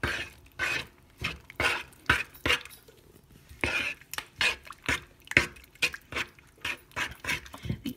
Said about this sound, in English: now we're just going to whisk this all, stir this all together